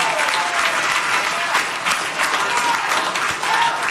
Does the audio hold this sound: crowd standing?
yes